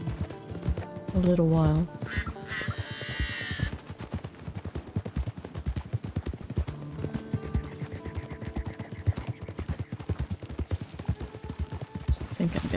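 Horse hooves clip-clop at a steady rhythm while riding from Blackwater to Tumbleweed in Red Dead Redemption 2, layered with game sounds and a horse's call, as someone talks over it.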